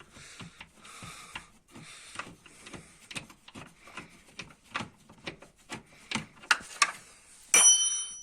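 An 18 mm socket on a ratchet turning a rear shock absorber bolt on a Seat Alhambra, Ford Galaxy or VW Sharan, giving a series of close, sharp clicking bursts in an irregular rhythm, ending with a metallic clink.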